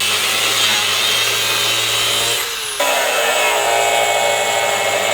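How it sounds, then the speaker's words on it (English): A power cutoff wheel grinds loudly through a steel leaf spring from a Chevy Express van, with a harsh, high-pitched whine, briefly easing off midway before biting back in, continuous and close. "we're just going to take a cutoff wheel, we're going to go ahead and clean this thing up and cut it off"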